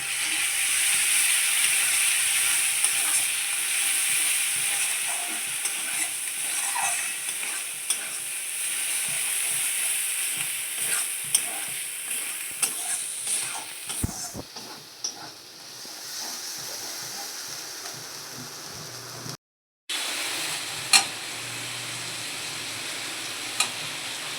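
A spiced masala of coriander powder and chili powder fries and is stirred in a pan. The sizzle is steady and moderate, with occasional scrapes and a brief dropout about two-thirds of the way through.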